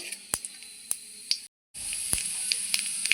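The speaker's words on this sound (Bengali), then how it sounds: "কালো জিরে তো আমি ভেজে নেব" Black cumin seeds fry in hot mustard oil in a wok, giving a steady soft sizzle broken by sharp pops and crackles, with a brief silent break partway through.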